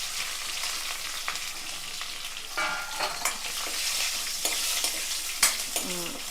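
Curry leaves and a piece of asafoetida frying in hot oil in a pan, a steady crackling sizzle with scattered sharp pops and a few scraping stirs, close and without talking.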